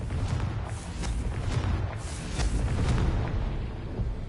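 Confringo blasting spell in Hogwarts Legacy, a run of booming explosive bursts rolling one after another over several seconds, loud and close with heavy low rumble and no voices.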